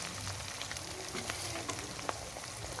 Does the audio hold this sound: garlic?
yes